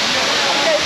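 A steady, full roar of Katika waterfall in Araku Valley, loud and close, filling the whole moment without a break.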